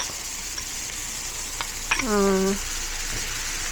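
Shrimp stir-fry sizzles steadily in a hot pan, a faint even hiss, with a brief exclaiming voice and a short tonal sound in the middle.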